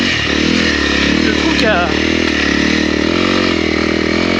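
A 2022 Honda CRF300L motorcycle rides through soft mud on light throttle, its single-cylinder engine droning steadily up close with a brief rev near the middle while the rider talks over it.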